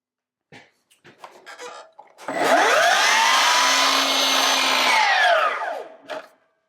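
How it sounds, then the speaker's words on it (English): A Milwaukee M18 Fuel 305mm mitre saw soft-starts smoothly to a steady whine, runs for a few seconds, then winds down quickly as the blade brake stops it. "That was the soft start and then the brake on the blade."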